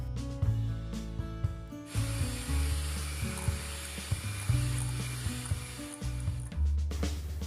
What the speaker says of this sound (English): Beat well until soft, smooth and creamy